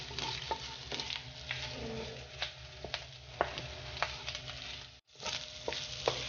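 Sitaw and chili being stirred into coconut milk in a pan, Bicol express style, a soft steady sizzle broken by repeated scraping clicks of the spoon, close and fairly quiet, with no talk.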